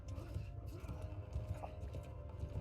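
Horse hooves clopping steadily in the video game Mount & Blade, a continuous low thudding rhythm with a faint game soundscape behind it.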